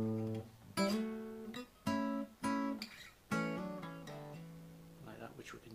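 Electric guitar fill, played alone and close: a run of plucked notes and chord strikes with slides, each ringing out before the next attack, fairly quiet.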